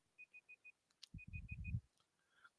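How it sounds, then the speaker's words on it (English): A timer gives four quick, evenly spaced beeps, pauses, then beeps four more times under a muffled thumping burst, all fairly faint. "that timer went off right there"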